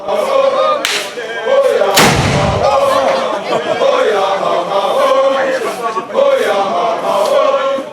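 Loud booming cannon shots ring out, one deep blast standing out among them, over a dense, noisy crowd din at a royal ceremony of the Bamoun king.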